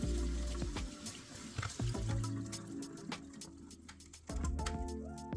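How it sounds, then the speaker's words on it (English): Cold tap water running over cooked rice in a fine mesh strainer, a steady close hiss and splash with small ticking knocks, alone with no voices. "Rinse with cold water and drain well again."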